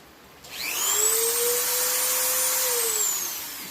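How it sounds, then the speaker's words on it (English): A Dremel rotary tool spins up to a high, steady whine while working on a full-body piebald deer mount, holds its pitch for a few seconds, then winds down slightly at the end. "Got my Dremel tool."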